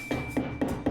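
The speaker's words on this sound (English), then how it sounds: "I drive it in with a rubber hammer" Four evenly spaced dull thuds, a rubber hammer driving a VW spring plate onto its torsion bar in a steady rhythm, with a faint constant whine in the background.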